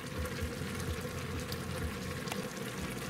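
Water being poured into an Instant Pot with bulgogi sauce ingredients, a steady broadband splashing rush that holds at an even, fairly loud level throughout with no talk.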